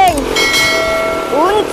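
A short notification bell chime rings twice, clear bright tones with a lingering ring, inserted as a sound effect under music, near and fairly loud.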